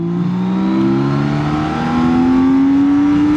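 A six-cylinder BMW K1600 GTL motorcycle engine pulls hard in third gear from 60 to 120 km/h, its pitch climbing steadily and smoothly without a shift, loud and close with wind noise.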